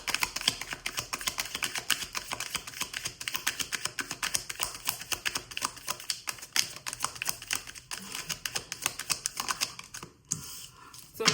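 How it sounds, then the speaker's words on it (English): Rapid, dense papery flicking and clicking runs steadily for about ten seconds, like cards riffled through a deck, then briefly pauses before resuming. "I'm going to go through the whole deck, shuffling the cards"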